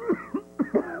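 A person coughs several times in quick succession, harsh throaty bursts close to the ear with short gaps between them, heard alone with nothing else around.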